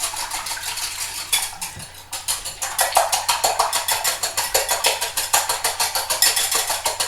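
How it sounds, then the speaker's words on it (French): Eggs whisked in a bowl until pale for an egg custard, a fast, steady metallic clicking and tapping that picks up into a brisk, even rhythm, close by with no talking. "Pendant ce temps-là, je vais donc mélanger les œufs."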